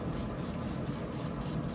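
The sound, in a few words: spray on chicken on a Walmart Expert pellet grill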